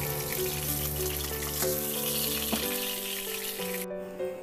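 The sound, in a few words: galunggong fish frying in a pan of oil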